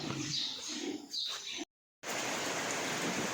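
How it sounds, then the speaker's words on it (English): Heavy rain pours during a thunderstorm, a dense steady hiss that cuts out briefly for a moment before returning just as strong. "Heavy rain this last 3/4 of an hour."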